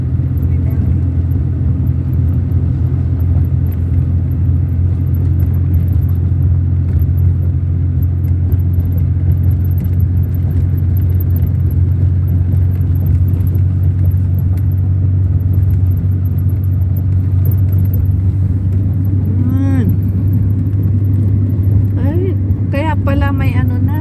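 A car driven along a rural road past rice fields and mahogany trees gives a steady, loud low rumble of engine and tyres throughout, with people talking inside the cabin.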